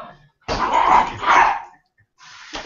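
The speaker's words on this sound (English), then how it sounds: "Now we have two dogs barking." Dogs bark in two loud bursts indoors in a home, followed by a shorter bark after a pause, with no talking.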